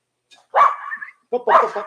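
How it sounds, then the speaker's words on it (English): Several dogs bark and yip in two quick, loud bursts close by at an outdoor snow event, with no one talking over them. "dogs are kind of going crazy here"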